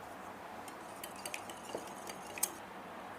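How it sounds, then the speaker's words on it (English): Wet cake batter with vanilla essence being whisked in a bowl for a spiced carrot cake, with quiet, irregular metallic clinks and taps against the bowl. "now I give it a whisk"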